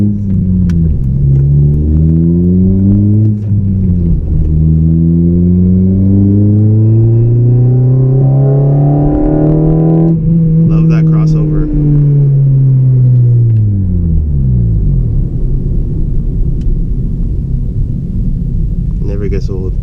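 A Honda Civic Si engine revs hard and high into its VTEC range, loud and close, climbing and falling through several long sweeping pulls.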